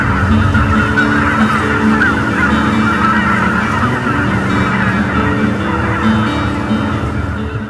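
Large numbers of migratory waterfowl, geese among them, honk in a constant dense chorus at a wintering lake on a national wildlife refuge in Arkansas, loud and continuous with no talking.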